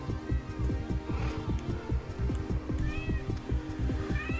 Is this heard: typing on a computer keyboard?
no